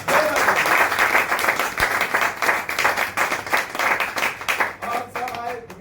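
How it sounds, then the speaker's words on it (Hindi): An audience at a direct-selling network marketing training session bursts into loud, sustained applause, dense clapping filling the whole stretch before starting to thin near the end. "तो एक अनिल जी के लिए जबरदस्त ताली होनी चाहिए।"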